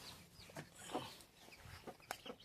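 A hen clucking among her chicks, with soft short clucks and faint peeps scattered over a couple of seconds, close by in a quiet setting.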